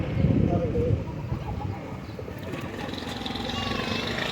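A pigeon, an old homing pigeon, coos softly a few times near the start, over a low droning engine hum and faint background voices.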